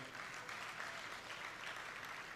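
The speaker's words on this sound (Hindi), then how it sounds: "पटना से ताल्लुक़ रखने वाले नई नस्ल के नुमाइंदा शायर का ज़ोरदार तालियों से इस्तकबाल किया जाए" Audience at a mushaira poetry gathering in Patna applauding to welcome a poet, a steady dense patter of clapping, faint and distant, without pause.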